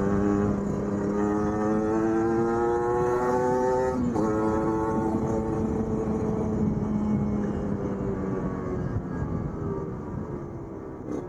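A Kawasaki Ninja RR with an Aitech Racing exhaust runs at full throttle on a windy straight track. Its engine drone climbs in pitch, drops briefly in a gear change, then keeps wailing steadily and fades slightly at the end.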